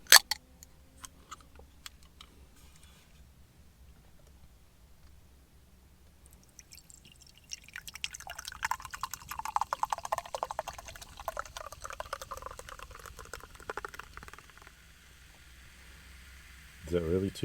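A small 250 ml drink can is cracked open with a sharp snap near the start, then poured for several seconds as a fizzy, trickling stream, close and fairly quiet, with faint drips at the end.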